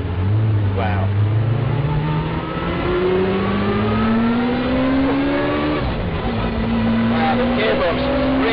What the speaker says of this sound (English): Just put it in first gear and let the clutch out slowly, and away we go.